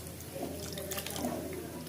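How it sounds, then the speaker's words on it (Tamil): Water pours steadily from a tap into a pan, a continuous hissing splash at moderate volume with no voices. "தேவையான அளவுக்கு தண்ணி ஊற்றுறோம்"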